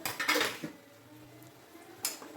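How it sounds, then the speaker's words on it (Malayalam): A pot of avial gets stirred on a home stove, with a short burst of metal spoon scraping and clinking, a quiet pause, then one more brief scrape. "ആ ഒപ്പം തന്നെ അവിയലും അമ്മ ഇളക്കി കൊടുക്കുന്നുണ്ട്"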